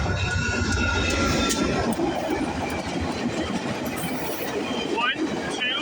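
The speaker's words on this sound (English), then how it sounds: "Yep, we got a Via train." VIA Rail passenger train 71, led by engine 912 with five coaches, detouring on the CN Halton Subdivision, rolls past close by with a continuous loud rumble and rhythmic wheel clatter, with brief higher squeals near the end.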